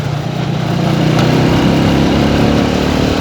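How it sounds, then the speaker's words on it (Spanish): A motorcycle engine runs steadily while riding on a highway, a continuous loud drone with a low hum and rattling undertone, no voices over it. "Una moto muy incómoda de manejar"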